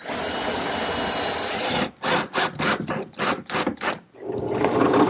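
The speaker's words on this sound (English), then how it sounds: "I'm going to drill and counterbore for some screws" A steady high whine gives way to rapid rhythmic rasping strokes as a drill bores a counterbore for screws into wood, then a rougher grinding near the end.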